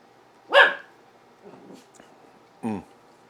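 A puppy barks twice while begging for food, two short sharp yips about two seconds apart with faint snuffling between them, close by and fairly loud.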